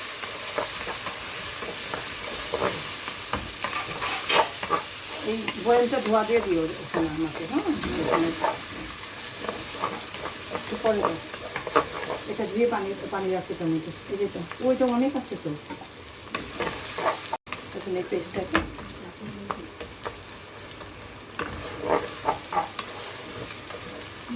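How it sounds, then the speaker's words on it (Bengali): Garlic paste frying in a pan for duck curry, with a continuous sizzle and scraping stirring strokes throughout, while someone talks over it. "এখানে দিয়ে দিচ্ছি রসুন বাটাটা একটু ভেজে ভেজে দিচ্ছি"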